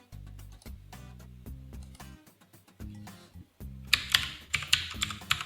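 A username and password are typed on a computer keyboard in quick bursts of close, crisp key clicks separated by short pauses, ending in sharper, louder taps.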